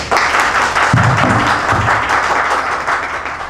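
Loud, dense audience applause from a crowd at a live debate event, steady throughout with many hands clapping close together, alone without speech.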